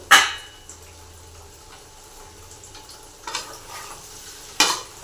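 Curry masala of ginger paste, chilli powder and coriander powder with tomato frying in a pan, heard as a faint low sizzle with a few sharp scraping stirs near the start, middle and end, no talking.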